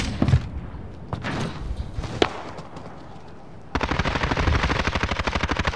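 Rapid automatic gunfire in a multiplayer shooter game, with scattered loud shots and thuds early on, then a sustained, dense burst of continuous firing in the final couple of seconds.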